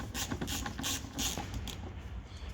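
Ratchet clicking in quick bursts as it undoes a T25 bolt on the rear bumper of an Audi A3 8P, close and fairly quiet with no talking.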